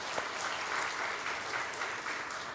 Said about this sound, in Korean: 여기서 박수 한번 쳐주시겠습니까?